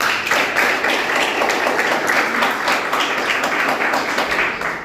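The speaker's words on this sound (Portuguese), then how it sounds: "Bate palmas, Senhor Jesus." Church congregation clapping during a Portuguese-language sermon, a dense, steady wash of many hands applauding together at close range without pause.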